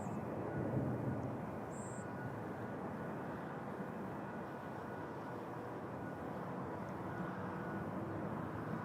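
An airliner takes off from Toronto Pearson airport, a steady, loud broadband jet roar holding evenly throughout with no talk in the foreground.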